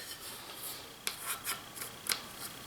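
Slightly oversized hardwood dowel rubbed and pushed into a quarter-inch hole, a few faint, short scraping and squeaking bursts spaced irregularly in a quiet room.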